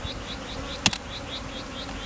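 Honeybees buzzing around a group of beehives at an industrial site: a steady, soft insect drone with a brief louder buzz as one bee passes close by.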